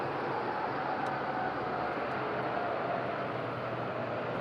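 A TUI airliner moves at Madeira Island airport on a windy day, heard as a constant, dense, broad engine roar that holds steady and fairly close throughout, with no voices.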